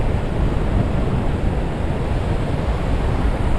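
Wind and ocean waves at a quiet, uncrowded beach in Chanthaburi, Thailand, forming a steady, loud broadband wash of surf and wind noise with no voices.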